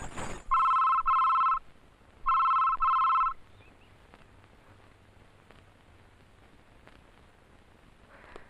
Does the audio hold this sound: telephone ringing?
yes